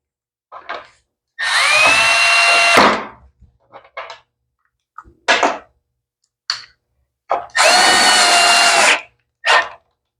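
A power drill snugs down the bolts holding the fuel tank on a Troy-Bilt mower with an old-style Briggs 550 engine. Two long, loud whirring runs are separated by several short trigger blips, close up and with no talk.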